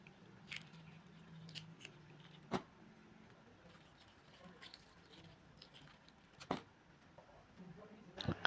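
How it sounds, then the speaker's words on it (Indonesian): Rambutan fruit is peeled by hand with faint crackling and snapping of the rind, a few sharper close clicks rising over a quiet background at irregular intervals. "aku kupas-kupas dulu ini rambutannya ya"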